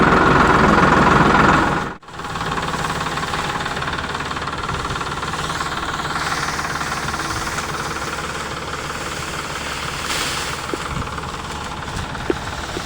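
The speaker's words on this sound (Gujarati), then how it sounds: "ટ્રેક્ટર" A steady, loud diesel tractor engine chugs continuously, with a brief dropout early on, then rumbles evenly.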